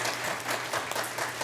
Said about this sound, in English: please give her a round of applause now